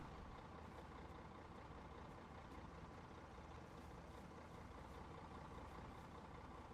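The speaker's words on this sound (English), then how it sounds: "Truck down there is making a lot of noise." A truck engine in ArmA Reforger rumbles faintly and steadily from a distance, a continuous hiss-laden drone with no clear changes in pitch.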